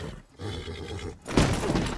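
A horse in the Red Dead Redemption video game lets out a loud, close neigh and whinny after a short stretch of quieter ambient noise.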